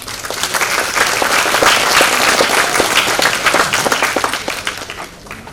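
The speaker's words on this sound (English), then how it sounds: "For these, you deserve a round of applause." An audience at a pharmacy college graduation ceremony breaks into loud, sustained applause, dense overlapping clapping that swells and then tapers off near the end.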